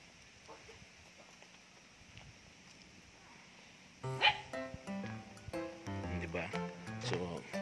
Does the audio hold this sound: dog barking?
yes